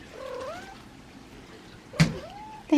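A cat meows twice at close range, a soft drawn-out call followed by a second after a short pause, with a brief bump of handling noise between and at the end.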